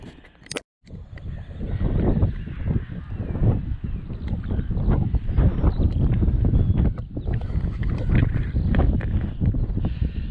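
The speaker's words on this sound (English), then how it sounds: "It's a bit breezy, so I have to speak up." Wind buffeting the microphone on the South Downs near the seafront, a loud continuous rumbling roar with gusts throughout, after a brief moment of quiet near the start.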